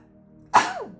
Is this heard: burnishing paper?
no